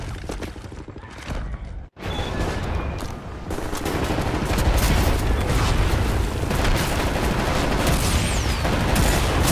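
Covering gunfire in the shooter game Wolfenstein: The New Order: a loud, dense barrage of rapid shots and booms. It roars almost without a break after a brief dip near the start, with no talking.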